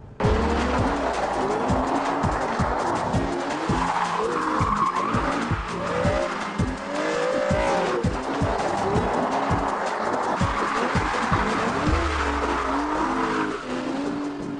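Aston Martin DB9, a front-engine rear-wheel-drive GT, drifting on a wet track: repeated loud tire squeals and skids rise and fall over a revving engine, close and continuous, with no speech.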